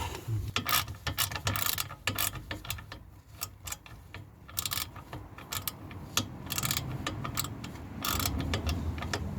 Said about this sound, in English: I might need the ratchet, but again, just do it up with a ratchet.